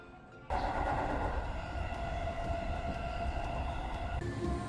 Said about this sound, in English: I'm taking the train back